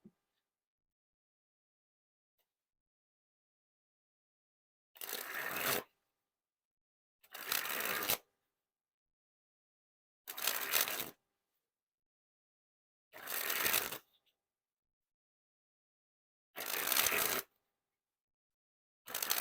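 Pink Quartz playing cards by Cactus Playing Card Co. are sprung from hand to hand in six separate bursts, each a brief rapid fluttering riffle, close and clear with silent pauses between.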